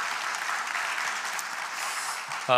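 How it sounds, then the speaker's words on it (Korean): A church congregation applauds during a Sunday worship service, a steady, even patter of many hands clapping together at moderate distance, continuing without a break before a brief louder sound at the very end. "여러분 수고해 주실 직분자들 위해 박수 한번 하십시다."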